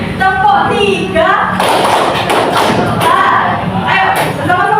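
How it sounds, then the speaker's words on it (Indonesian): A class claps a "clap three" pattern in unison, a close, energetic run of claps and thumps framed by a teacher's voice before and after. "tepuk 3."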